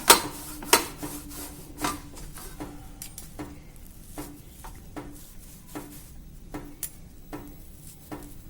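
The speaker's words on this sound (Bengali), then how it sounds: "এবার এটা ছোট ছোট গোল গোল করে নেব।" Hands roll kneaded chhana into small balls for homemade rasmalai, close up and without talk: soft, steady rubbing broken by a series of light, irregular taps and clicks, a little louder at the start, then quieter and evenly spaced.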